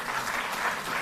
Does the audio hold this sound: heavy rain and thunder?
no